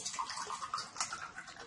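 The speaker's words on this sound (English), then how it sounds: "So I'll just put some water in there" Water pours and splashes briefly into a beaker, a soft, close, trickling sound with no voices.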